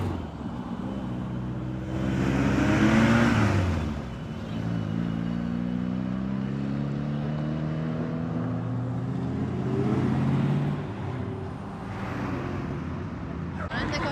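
A turbocharged VR6-powered Martini-liveried Mark 1 passes with loud engine roar that swells and fades twice, with rumbling exhaust over a background of car-show crowd noise.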